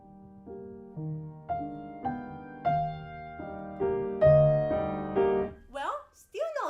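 Solo piano plays a nocturne phrase shaped to climb steadily, with single notes over sustained low harmony growing louder toward the peak. A voice cuts in briefly at the very end.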